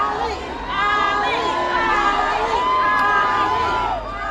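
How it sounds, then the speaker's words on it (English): Packed street crowds of spectators along the Louisville route of Muhammad Ali's funeral procession shout and cheer, a dense roaring babble of many voices with chants and yells rising and falling, loud and continuous. "people there shouting the champ's name"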